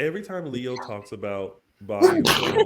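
A single sharp sneeze bursts out near the end after a short silence that follows a woman's speech.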